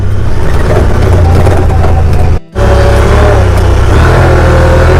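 Engine of a 2019 Honda Pioneer 1000 side-by-side revving loud and close in sport mode during an off-road ride, a steady roar that cuts out briefly midway, then picks back up and climbs.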